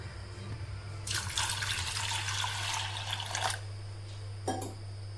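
Toor dal lentils are rinsed under a tap, with a burst of running water splashing for a couple of seconds and then a brief second splash, over a low steady hum.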